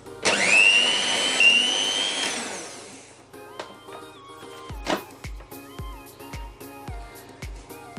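An electric mixer runs at its lowest speed, whipping powdered sugar into a French meringue. A loud, close whirring motor whine lasts about three seconds and then cuts off, followed by a run of short, tonal beeps.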